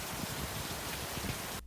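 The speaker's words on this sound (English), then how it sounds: "It rains here a lot." Steady rain falls in a continuous, even hiss of drops with no other sounds, cutting off abruptly at the end.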